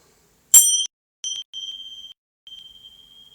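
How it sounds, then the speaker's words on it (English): A bell struck at the start of a yoga class rings out with a sharp metallic strike, followed by softer strikes and a long, clear, fading tone in a quiet room. "Let's have the bell going too."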